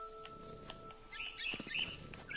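Barn swallow chirping in a video game, a few bright high twittering calls over a low hum with a tonal drone, fairly faint and brief.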